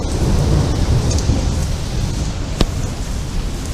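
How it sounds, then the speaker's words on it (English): Thunder cracks during a heavy rain and hail storm, with steady loud rain throughout and one sharp, close crack of thunder near the middle. "There's the crack of thunder."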